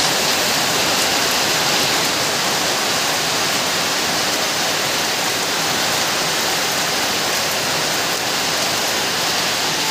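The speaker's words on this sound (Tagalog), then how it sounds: "malakas ang ulan dito, hindi kayo marinig guys" Heavy rain pours down in a dense, unbroken roar of loud broadband hiss that stays even and close throughout.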